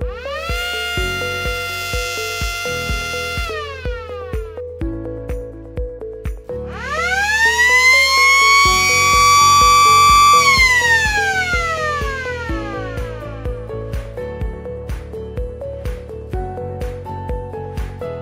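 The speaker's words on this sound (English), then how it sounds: "Also can connect with this siren." An electronic siren from an automatic bell timer wails, rising and falling in long sweeps over a repeating synthetic beat, loud and close throughout.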